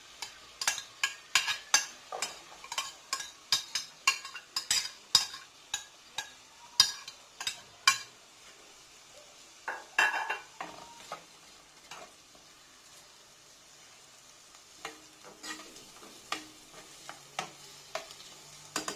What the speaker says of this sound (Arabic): غادي ندير هاد البصله هادي تشحر ليا واحد شويه